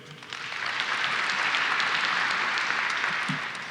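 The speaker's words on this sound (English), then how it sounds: "Can we give every one of those another round of applause?" An audience at a steelworks groundbreaking ceremony applauds, the clapping swelling in over the first half second to a steady, fairly distant wash before tapering slightly.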